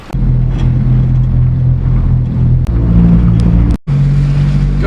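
Daihatsu HiJet mini truck engine droning loudly from inside the cab while driving on a snowy road, a steady low rumble with small shifts in pitch and a brief dropout near the end.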